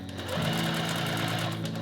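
A sewing machine quilts lines across a fabric panel for a coin pouch, running in a fast, steady mechanical whir with rhythmic needle clatter, close and alone.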